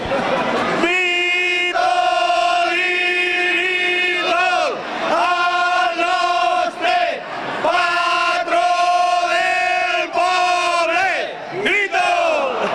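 A festive crowd roars a vítol cheer in a series of sustained, loud unison shouts that swell and break off, then start again several times.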